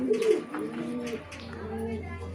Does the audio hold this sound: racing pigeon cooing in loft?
yes